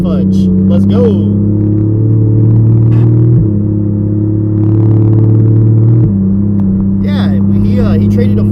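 A car engine rumbles loud and close with a steady low idle, rising in short revs around the middle before settling again, with faint voices in the background.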